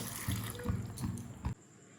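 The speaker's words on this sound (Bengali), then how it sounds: "এরপর এর মধ্যে জল দিয়ে দেবো, পাস্তাটাকে সিদ্ধ করে নেব" Water pours into a pot of pasta sitting on a gas stove, a loud splashing gush in uneven surges for about a second and a half, then stopping abruptly into quiet.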